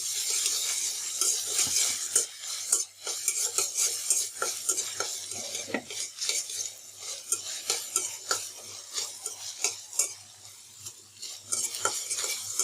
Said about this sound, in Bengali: আদা রসুন বাটাগুলো যখন হালকা ভাজা হয়ে যাবে